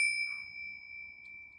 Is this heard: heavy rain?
no